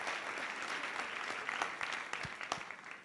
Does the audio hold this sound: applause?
yes